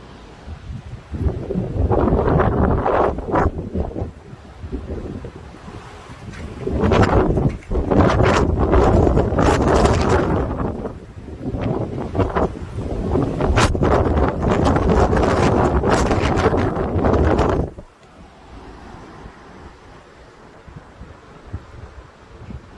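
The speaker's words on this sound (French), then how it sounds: "Mais une rafale à 140." Strong storm gusts, one reaching 140 km/h, roar and buffet the microphone in long surging waves, then drop away abruptly to a quieter rushing background near the end. Storm Larisa, Mérignac.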